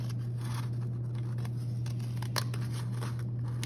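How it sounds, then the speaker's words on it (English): Scissors snipping through paper in a series of short, irregular cuts over a steady low electrical hum. "take my scissors and I'm going to cut around."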